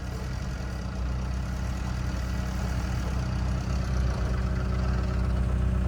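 A tractor engine stuck in a field runs at a steady low idle, a continuous close rumble with no talk.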